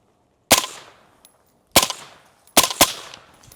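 Three sharp, fairly loud rifle shots are fired through an AAC suppressor. The first two are spaced about a second apart, and the last comes quickly after a short pause, each cracking then decaying outdoors.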